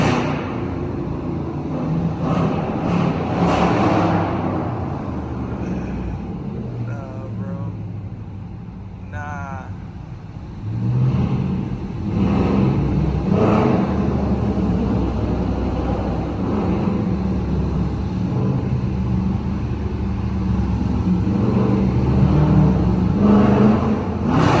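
A Dodge Charger R/T engine revs in heavy Times Square traffic in New York City, a loud steady drone with surges of revving and passing cars around it, while a voice talks over it now and then.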